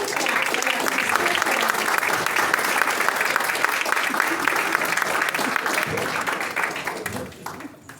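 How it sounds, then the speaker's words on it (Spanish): An audience at a talk gives sustained applause, dense and loud clapping that holds steady for several seconds and then thins out and fades near the end. "Un gran aplauso"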